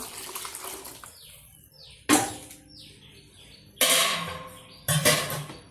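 Liquid is poured into ground paste for a Kongu-style okra tamarind curry in three short, splashing pours, close and moderately loud, with faint chirping between them.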